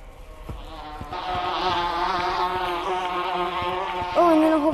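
Bees swarm in the Gorilla Tag video game after a beehive appears among flowers, giving a steady insect-like buzz with wavering tones that grows fuller and closer toward the end.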